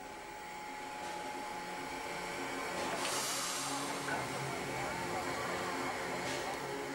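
Museum steam locomotive No. 34, once used at the Saarbergwerke mines, shunts at Merzig on the former Merzig-Büschfeld railway. A steady broadband hiss and rumble of steam carries through, swelling to a stronger blast midway.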